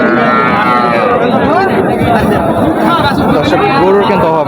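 Several cattle, including Sahiwal and Gir breeds, moo loudly at a Bangladeshi cattle market, overlapping one another amid the chatter and murmur of a busy crowd nearby.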